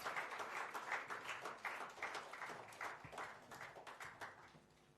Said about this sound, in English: Can we all have a big round of applause for all the KWA Lion Award winners today